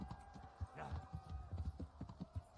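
A horse in the medieval video game Kingdom Come: Deliverance makes quick, rhythmic clip-clop hoofbeats at a fast gait, with a steady low hum underneath.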